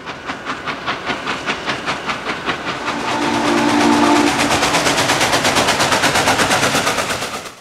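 Norfolk & Western 611, a steam locomotive, passes through the North Carolina countryside between Spencer and Asheville. Rapid, rhythmic exhaust chuffs build in loudness, and a sustained whistle blast sounds midway.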